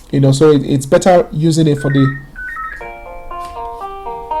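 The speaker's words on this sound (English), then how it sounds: "Sorry, that's my phone going." A mobile phone ringtone plays a short melodic sequence of electronic tones, rising and stepping in pitch, moderately loud and heard right after a man's speech ends.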